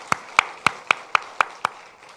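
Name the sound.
church congregation applauding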